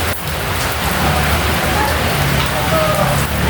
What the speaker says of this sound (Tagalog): naulan-ulan talaga mga ka-business